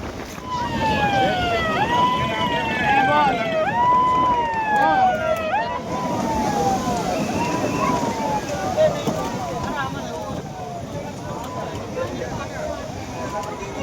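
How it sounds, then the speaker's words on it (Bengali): A siren wails in repeated rising and falling sweeps at Old Digha beach beside a rough sea, carried over a steady roar of surf, with faint voices in the background. "সাইরেন বেজে গেছে।"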